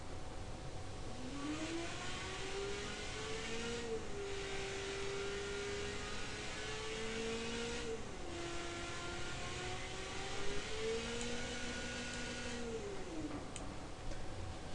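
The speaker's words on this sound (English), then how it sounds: "we can see what all happens when you bring the RPM up" A car engine in the Automation car company simulator game hums continuously, its pitch climbing and falling as the revs are raised and lowered. There is no talking over it.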